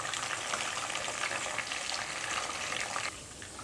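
Chicken pieces for a roast frying in a pan of oil, a steady dense sizzle and crackle running nearly throughout, dropping slightly softer near the end, with no talking.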